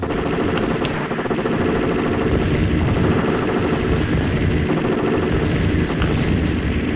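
Rapid, continuous gunfire from a Midway light gun arcade game on the AtGames Legends Ultimate, dense and unbroken for the whole stretch with the trigger held down, mixed with booming game effects and no talking.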